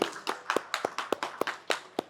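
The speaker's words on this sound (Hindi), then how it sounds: "इनके लिए एक जोरदार तालियां होनी चाहिए" An audience claps in a loose, steady rhythm of distinct hand claps at a rally, close and fairly loud, with no other sound.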